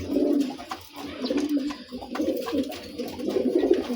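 A male pigeon coos repeatedly after being paired with a female, giving low throaty, rolling calls in close succession, loud and near, with faint sounds from other birds behind.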